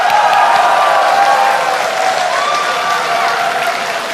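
Audience applause at a 2014 Indonesian presidential and vice-presidential debate, loud and sustained throughout, with crowd noise and a few voices mixed into the steady clapping.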